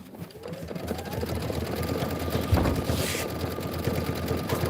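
An embroidery machine sews a satin stitch with a steady, rapid, rhythmic needle chatter and motor whir that runs close and even for the whole stretch.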